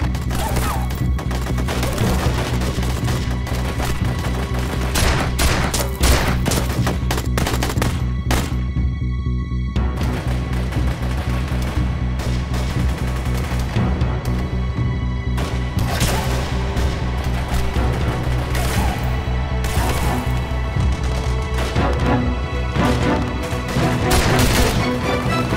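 Sniper gunfire in a combat scene, sharp gunshots and splintering impacts ringing out repeatedly across the span over a dense, loud background, with no voices heard.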